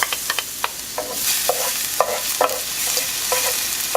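Garlic frying in hot oil with chicken, a bright steady sizzle under repeated close scraping stirs and utensil taps against the pan, no speech.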